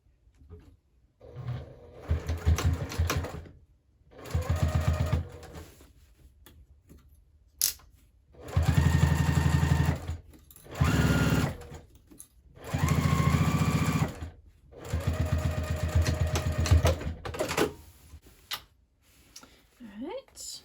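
A sewing machine stitches across a Divina handbag in several short bursts of whirring, broken by pauses with faint taps and fabric handling.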